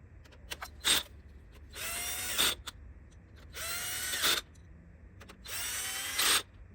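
Power drill or impact driver snug-tightening valve cover bolts on a 2010–2011 Toyota Camry, three close, loud whirring bursts of about a second each, with small clicks and handling noises between them and no talk.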